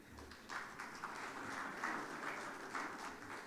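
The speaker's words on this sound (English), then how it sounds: "Let us have a big round of applause for our chairman." An audience at an international tax conference in Dubai applauds for the chairman, a fairly faint, continuous patter of many hands clapping with no speech over it.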